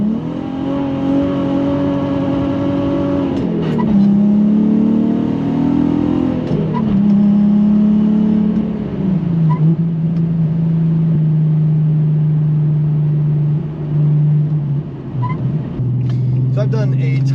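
A manual Infiniti G37 Sport with aftermarket exhaust, air intakes and upgraded clutch drones steadily, its engine note rising and falling through gear changes as it pulls away, loud and close, with someone talking over it throughout.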